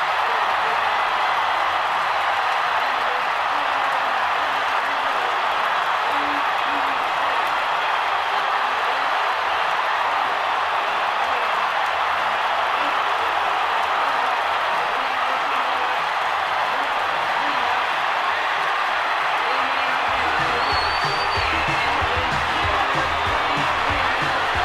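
Stadium crowd roaring and cheering as the Minnesota Twins clinch Game 7 of the 1991 World Series against the Braves, a dense sustained wall of noise with a surge of low rumble near the end.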